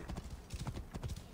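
A horse's hooves clip-clop in a quick, even rhythm in Assassin's Creed Origins, sounding faint and fairly close, with a soft game backdrop underneath.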